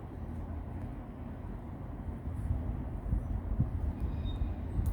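Strong wind blowing outdoors on a cold day, a steady broad low rumble and buffeting that swells slightly louder toward the end, with no voices.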